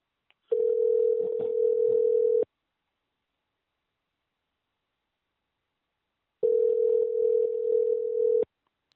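A steady telephone tone sounds loud and alone in two identical bursts of about two seconds each, separated by a long silence.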